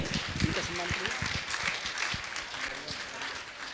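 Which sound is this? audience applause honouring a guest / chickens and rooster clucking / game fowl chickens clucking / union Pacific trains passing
audience applause honouring a guest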